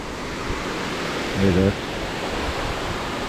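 Roaring rush of the Mençuna waterfall in the Black Sea region, a steady broadband wash heard from a suspension bridge, with a brief spoken word rising over it midway.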